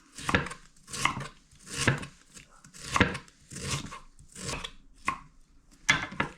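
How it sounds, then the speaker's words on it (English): A knife slices and chops peeled ginger on a cutting board for a chicken stir fry, with about seven or eight firm, close chops coming in a steady rhythm and no talk. "I remove all the skin, and what I do is just I slice it, and then I just cut into like that."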